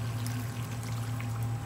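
A cup of water pours into a pot of traditional lamb chop curry, a soft, steady watery splash held low under a constant background hum.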